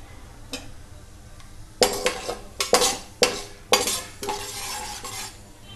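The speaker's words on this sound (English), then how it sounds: "add black gram, fry for about a minute." Black gram lentils frying in a pan for an eggplant curry, with a series of sharp stirring scrapes and clinks of a spoon against the pan over a faint sizzle, fairly close and without speech.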